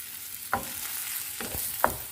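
A Thai omelette of beaten egg frying in a hot pan: a steady close sizzle with three sharp bursts of crackling as the spatula stirs and turns the egg, no voices.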